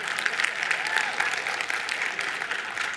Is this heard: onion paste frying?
no